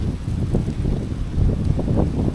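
Strong wind blows outdoors, buffeting the microphone with a steady, loud low roar that swells in gusts throughout.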